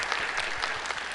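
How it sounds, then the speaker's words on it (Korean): Audience applause at a multicultural sound festival in Tongyeong, Korea: a dense, steady wash of many hands clapping together, loud and continuous throughout. "박수 부탁드립니다."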